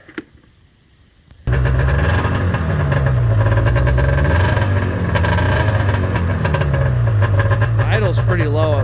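A carbureted-era 1997 Arctic Cat ZR580 snowmobile engine with batteryless EFI fires up abruptly after a brief quiet and settles into a loud, close, rough low idle with slight wavering revs, and a voice can be heard underneath.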